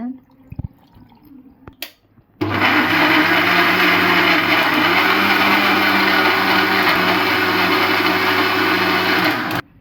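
After a few soft clicks, a mixer grinder blending mango and milk starts up loudly and runs at a steady roar for several seconds before cutting off abruptly.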